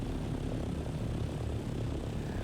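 An aircraft cruising in the video game Dune: Awakening gives off a steady, even engine and propeller-like drone, moderately quiet and unbroken throughout.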